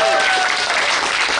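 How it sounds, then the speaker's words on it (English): A crowd at a dance event talk applauds loudly and steadily for the whole short stretch, with a few voices faintly mixed into the clapping. "Dima, this applause is for you."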